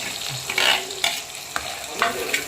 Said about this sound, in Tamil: போட்டுட்டு சாப் பண்ணி வச்ச சின்ன வெங்காயம் சாஸ் பண்ணிக்கலாம்